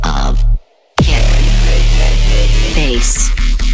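Trance music with a pounding kick drum and rolling bass, loud and dense, cutting out briefly to silence before slamming back in with full energy and bright synth layers.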